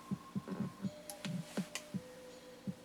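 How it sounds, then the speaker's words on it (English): A 1949 Singer 66-8 sewing machine stitches through two layers of girdle material, producing a steady series of soft, thumping needle strokes over a low motor hum, with a few bright clicks in between. "we're going to try sewing 2 layers of this girdle material right about now"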